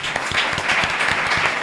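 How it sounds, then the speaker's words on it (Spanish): An audience applauds with dense, steady clapping, close and fairly loud throughout the short burst. "Aplauso."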